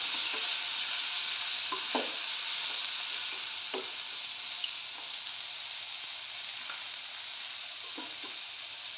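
Mushrooms frying with onions in a pan, a steady bright sizzle and hiss running throughout with occasional soft stirring knocks.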